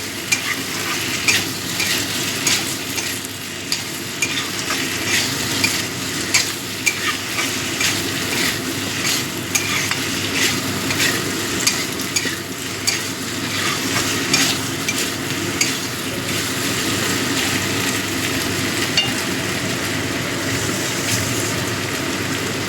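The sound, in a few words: stirring batashi tangra fish frying in a pan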